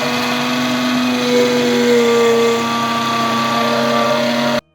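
A kitchen mixer grinder runs continuously on chutney ingredients including garlic, mint and salt, giving a loud, steady, close motor whine with a humming drone that cuts off abruptly at the end.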